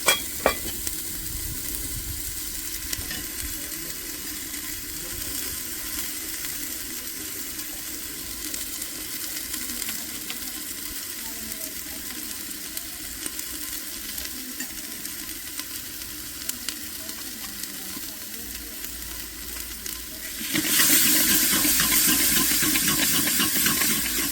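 Masala roasting and being stirred in a pan over a wood-fired chulha, a steady close sizzle with scraping stirs throughout, growing louder and brighter near the end.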